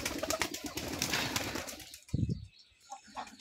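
Pigeons heard at close range: a dense burst of wing flapping and fluttering in the first two seconds, then a few soft coos and short calls in a quieter stretch.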